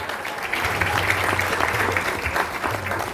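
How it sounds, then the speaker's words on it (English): An audience at a tent campaign event in La Mercy claps together in a dense, steady burst of applause, with a low hum running beneath and a faint voice coming through. "So let's give him a round of applause."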